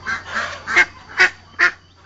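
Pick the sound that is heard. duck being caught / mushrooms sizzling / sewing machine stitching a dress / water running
duck being caught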